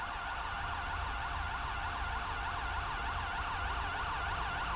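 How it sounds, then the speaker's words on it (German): Emergency vehicle sirens from rescue services wail in a fast repeating up-and-down pattern, loud and continuous with no voices. "die Sirenen tun echt weh"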